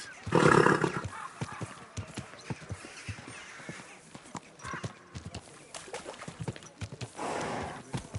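A horse moves nearby with scattered hoof clops and snorts, moderately close, then gives a short whinny or loud breath near the end. The sounds are mostly unmasked, with little talk over them.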